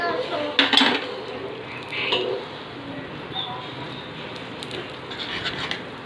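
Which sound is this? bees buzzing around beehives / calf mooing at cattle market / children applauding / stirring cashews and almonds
stirring cashews and almonds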